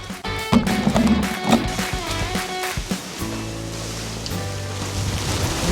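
Gusty wind rushing through a broken garden gate, a loud continuous roar with buffeting surges and some rattling, no speech.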